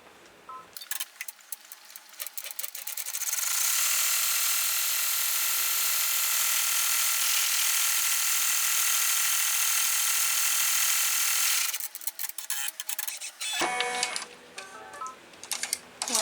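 An in-the-hoop embroidery machine runs its final tack-down stitch on a rectangle-window luggage tag, giving a steady, loud, fast mechanical whirr with needle ticking for several seconds, framed by brief clicks and handling noises before and after.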